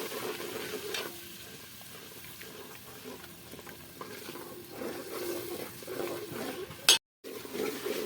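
Onion and spices frying in oil, a low steady sizzle with faint stirring and clinks of a pan, a brief louder knock near the end followed by a short gap, no talking.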